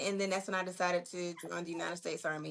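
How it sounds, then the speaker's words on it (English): A dog barks and whimpers indoors near someone speaking, with repeated short yips and whines running through and partly under his talk. "that's my dog. I don't know why he's acting up"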